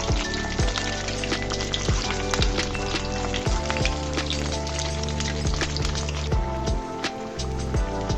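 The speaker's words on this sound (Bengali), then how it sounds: "সুন্দর করে আমি নাস্তাটাকে আবার উল্টিয়ে দিচ্ছি, লাল লাল করে ভেজে নিতে হবে।" Egg and potato chops sizzling in hot oil, a steady dense crackle with scattered pops and spits throughout, close and continuous.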